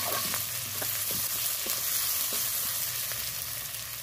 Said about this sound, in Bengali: দেখো পেঁয়াজটা নেড়েছে, একটু ভাজা হয়ে এসছে।